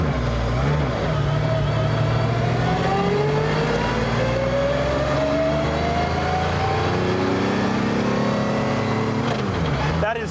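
A Mercedes-Benz CLK GTR hypercar's engine revs hard and close, its pitch climbing in long sweeps before dropping back, loud and continuous, with voices faintly present underneath.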